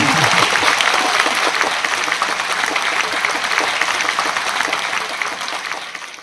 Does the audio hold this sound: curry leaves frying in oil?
no